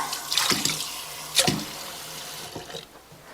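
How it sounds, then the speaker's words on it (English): Tap water runs over halved peppers being rinsed of their seeds in a kitchen sink, a hissing stream with a few louder splashing bursts as the pepper shells are moved under it, no voices. "And rinse the inside of these out to get all those extra seeds out."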